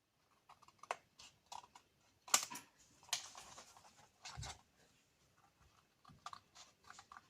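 Paper for a scrapbook album cover being cut, giving a series of soft, quiet snips and crisp rustles in irregular bursts, with a few louder crunchy cuts near the middle and short pauses between strokes.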